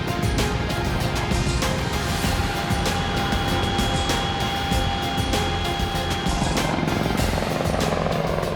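Chinook and Apache military helicopters flying over a warzone in Afghanistan, a loud, steady roar of rotors and engines filling the whole stretch without a break.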